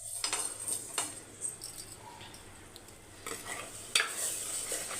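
Onion and fenugreek fry in a pan for a village-style sankara fish curry, giving a faint, steady sizzle with occasional stirring scrapes and clinks. No one speaks.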